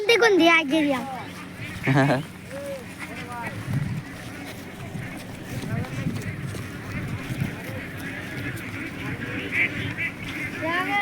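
A large flock of farm ducks quacks close by in a burst of calls near the start, then fades under a steady mix of people talking.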